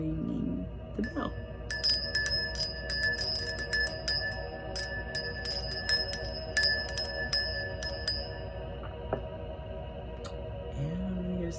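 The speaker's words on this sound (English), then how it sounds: "Let's begin the reading by ringing the bell." A small bell rung repeatedly to open a tarot-style reading, a long run of bright, ringing strikes in quick irregular rhythm, close and clear, fading out into near silence.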